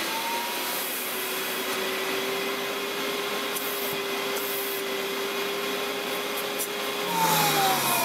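Steady, loud vacuum cleaner roar drawn through a homemade DIY chip separator, a continuous airflow whine holding even throughout and swelling slightly near the end, with no talking.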